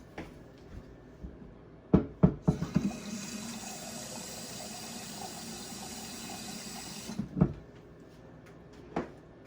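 A kitchen tap runs for a few seconds to measure water into a cup for a chicken dinner, a steady hissing stream framed by clunks and knocks of handling before and after.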